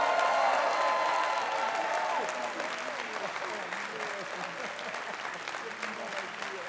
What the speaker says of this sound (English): Big round of applause to all of you for making that happen.